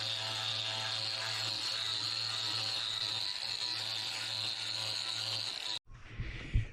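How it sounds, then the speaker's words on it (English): An orbital sander fitted with 40-grit paper works ohia wood, a steady high-pitched whirr with a low hum running continuously up close before cutting off abruptly near the end, followed by brief handling thumps. "just finished using the orbital with 40 grit"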